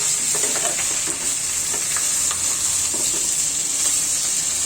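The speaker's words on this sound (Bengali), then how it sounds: "মাছগুলো ভেজে নিচ্ছি রুই মাছ" Rui fish pieces coated with ginger, cumin and black cumin fry in hot oil, giving a steady, dense sizzle that holds evenly throughout with faint crackles and no voices.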